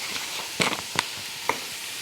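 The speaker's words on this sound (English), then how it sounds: "And now we cook the onions until they are browned." Onions frying in a pan for Louisiana red beans, a soft steady sizzle running throughout with a few sharper crackles and pops.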